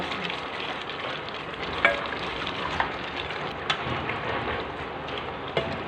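Onion hits a pan of frying Thai massaman beef curry, setting off a dense, continuous sizzle with faint crackles and occasional stirring clinks, close and alone.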